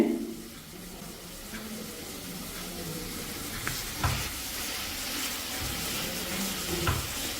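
A banana is mashed with a spatula in a pan, giving a steady soft sizzling scrape with a few sharper taps now and then, with no talking.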